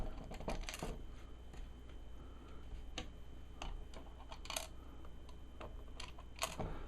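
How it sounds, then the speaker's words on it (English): Metal washers set one by one onto the studs of a reflow jig used for Xbox 360 and PS3 repair, giving sharp, close metallic clicks and taps at irregular intervals over a faint steady hum. "you just simply take another washer and place it on top of every stud"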